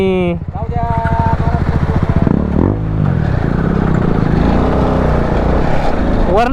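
A Royal Enfield Himalayan 450 motorcycle engine drones steady and loud up close while riding and overtaking, its pitch rising and falling as the rider changes speed, with voices talking over it.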